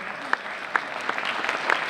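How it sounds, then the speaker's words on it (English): Clapping from a crowd at a Reaching for Rainbows 2025 event, a moderate, even patter with a few distinct sharp claps standing out, a voice faint beneath it. "let's give John a great round of applause for his leadership here"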